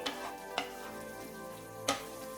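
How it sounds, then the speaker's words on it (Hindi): Kadai paneer being stirred in a pan after chopped coriander goes in, a soft continuous sizzle with a few sharp scrapes of the spoon against the pan, quiet and close. "अभी इसमें डालेंगे चॉप्ड धनिया। अभी इसको अच्छे से मिक्स कर लेंगे।"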